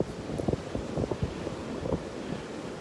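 Wind gusting at a beach in North Naples, Florida, a steady rough rush buffeting the microphone with low irregular thumps and no voices.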